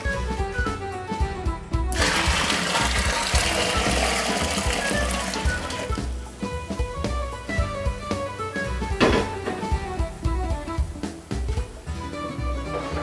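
Liquid gushes and splashes steadily into a fermenter for several seconds, then trails off into dribbles and clinks, close by.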